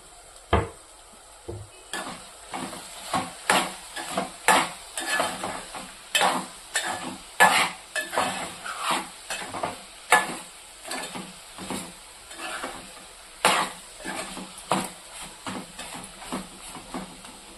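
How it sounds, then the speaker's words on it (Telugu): Eggplant and tomato curry with masala frying in a pan and being stirred with a spoon, giving a steady sizzle broken by repeated scraping strokes against the pan, close and moderately loud, with no talking. "వేగిపోయినాయి కదా ముక్కలు, ఒకసారి కలబెట్టేసి"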